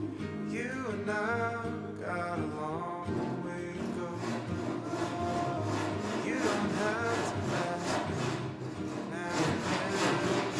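Hand saw cutting wooden lumber for a mortise and tenon joint, a steady run of rhythmic rasping strokes that continues close and loud for the whole stretch, with no talk.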